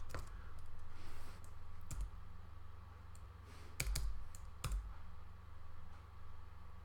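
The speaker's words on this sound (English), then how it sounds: "see what happens when we type in something that is just pure nonsense." A computer keyboard being typed on, with a handful of sparse, faint key clicks spaced over several seconds against a low steady background hum.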